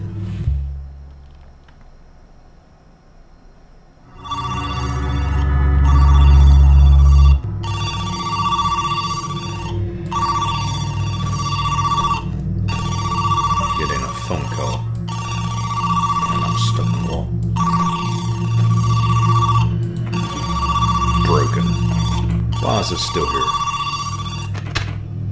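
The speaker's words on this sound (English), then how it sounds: "Why aren't you answering the phone they gave you?" A telephone rings over and over inside a psychological horror game, a loud repeating electronic trill set against a low, droning ambient rumble, with someone briefly speaking over it.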